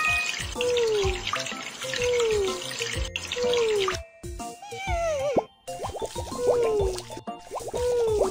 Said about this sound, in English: Let's shower him.